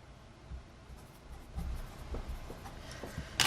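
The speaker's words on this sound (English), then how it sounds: "Let's write that down." Pen writing by hand on paper, faint scratchy strokes and small taps in an irregular rhythm, close and quiet with no talking.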